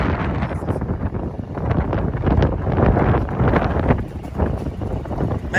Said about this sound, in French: parce qu'il y a un vent, on n'avait rien entendu.